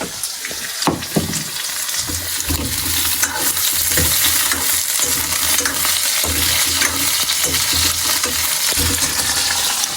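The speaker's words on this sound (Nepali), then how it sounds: "यहाँ चाहिँ आलु भुटिँदैछ" Potatoes fry in a pan on a high gas flame, a loud continuous sizzle with clinks and scrapes of stirring utensils near the start, close to the pan, with no talk.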